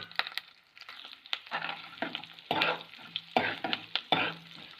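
Cashews and other ingredients fry in ghee, a quiet crackling sizzle broken by repeated sharp scrapes and clicks of a spoon stirring the pan, with no voices.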